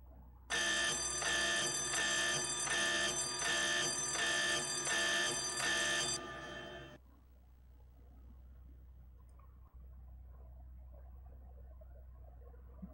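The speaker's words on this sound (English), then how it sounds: "Sound the alarm." In an old video game, an alarm rings in a loud, rapid electronic pulse for about six seconds, then cuts off, leaving quiet background hum.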